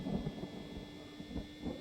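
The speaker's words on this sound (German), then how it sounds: "Es regnet." Steady rain hiss with low rumbling thunder rolls swelling and fading in the train driving game Signal Simulator, fairly quiet and continuous with no voices.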